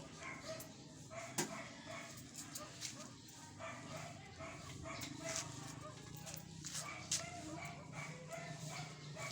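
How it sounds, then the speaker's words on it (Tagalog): Several dogs bark off in the distance, faint and scattered yelps over a busy outdoor background with people talking. "Ang mga aso, ang dami doon nagtatahulan."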